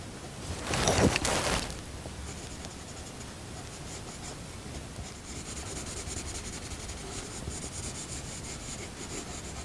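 Coloured pencil dragged in wiggly strokes across paper to render woollen cloth, a brief louder scratchy burst early on, then steady soft rubbing and scraping close up with no voices.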